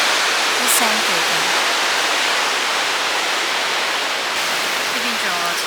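A small, partly frozen waterfall in western Iceland sends out a loud, unbroken broadband rush that fills the whole stretch, with a voice briefly heard over the roar.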